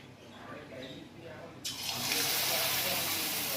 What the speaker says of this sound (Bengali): এই যে ভালো করে বেসনের সাথে মিশিয়ে এবার বড়াগুলো তেলে দিয়ে দেবো।